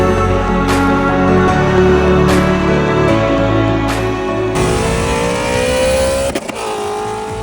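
A stock 2003 Infiniti G35 Coupe races a Mustang Cobra, engines revving hard and loud with steady acceleration, the pitch shifting up through gears and a brief gap near the end.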